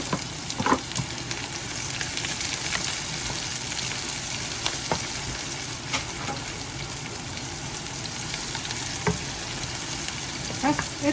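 Onions frying in a pan for a layered lasagna, with a steady broadband sizzle throughout and occasional sharp clicks and scrapes of stirring against the metal, close and fairly loud, no voices.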